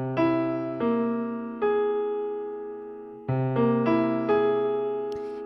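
A dominant five flat thirteen chord with root, third, seventh and thirteenth, struck as a few sustained piano-like chords that ring and fade in turn, alone and clear.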